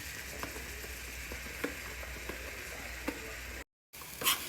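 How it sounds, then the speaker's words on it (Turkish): Onion sautéing in sauce in a pan while being stirred, a continuous soft sizzle with a few light scraping taps, fairly faint, briefly cutting out near the end before a short louder scrape. "Şimdi iyice karıştırıyor soğanla o sosu. Ve kavuruyor soğanı."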